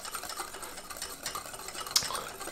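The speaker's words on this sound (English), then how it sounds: "8 wonderful spices whisked together" Eight dry spices are whisked together in a bowl, giving faint, quick scraping and ticking strokes against the bowl that run steadily for a couple of seconds, with one brighter clink near the end.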